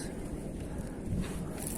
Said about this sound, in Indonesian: Angin terus.